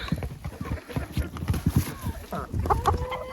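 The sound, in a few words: hens clucking in a henhouse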